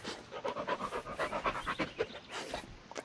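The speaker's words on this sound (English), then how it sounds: "Yeah, good dog." Rapid, rhythmic panting of a dog companion in the Blair Witch video game, steady quick breaths close up with no talk over them.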